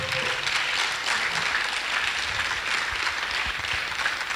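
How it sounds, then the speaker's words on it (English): Audience applause in a hall at a university technology week event, greeting an engineer as he is introduced; steady, dense clapping throughout, fairly loud and sustained with no break. "with a resounding round of applause, help me welcome Engineer Akwesi Apia Obeng."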